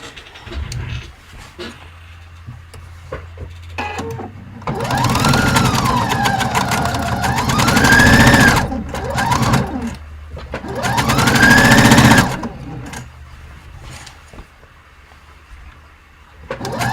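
A sewing machine stitching a half-inch seam on a Karry top runs in two sustained loud bursts of steady whirring with a rising and falling hum, separated by a quieter pause and near-silence at the edges.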